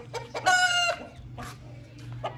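A kandhari rooster crows once, a short loud call close by, with faint clucking and low background hum around it.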